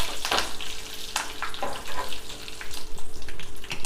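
Sizzling and crackling of frying in a pan while cooking with tomato, with irregular bursts of hiss and spatter close by, alone without talk.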